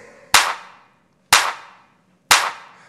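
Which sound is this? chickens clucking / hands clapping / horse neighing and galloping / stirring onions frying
hands clapping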